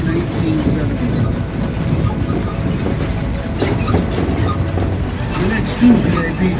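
Open-air tour tram rolling through the Pima Air and Space Museum grounds in Tucson, Arizona, giving a steady low rumble with faint rattles and occasional clacks, continuous and fairly loud throughout.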